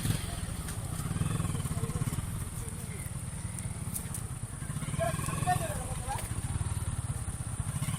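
A motorcycle riding through water on a road trip toward a waterfall, a continuous low engine rumble with splashing and rushing water, loud and close, while a voice talks over it.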